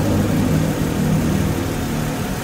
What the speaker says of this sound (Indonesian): Halus ya, dan ini posisi idle, posisi langsam, sama sekali nggak ada getaran sedikit pun.